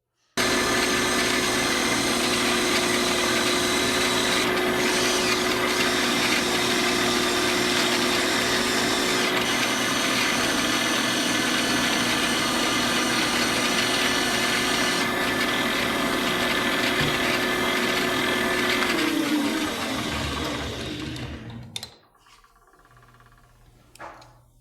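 A diamond dresser trues a bench grinder wheel, giving a loud, steady abrasive grinding roar over a motor whine that runs continuously for about twenty seconds before the grinder winds down and quiets.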